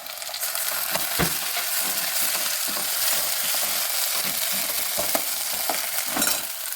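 Tomatoes are stirred and fried in a pan for a tempered rotlo dish. A close, steady crackling sizzle carries on throughout, with repeated scraping strokes of the spoon and no talking.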